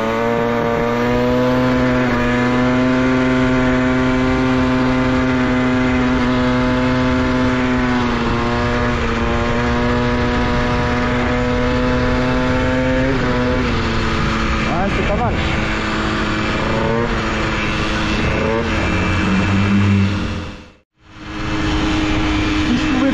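A vehicle engine runs at about 45 km/h after a clutch overhaul, a steady droning hum with strong harmonics that shifts pitch midway, under talking, then briefly drops out near the end.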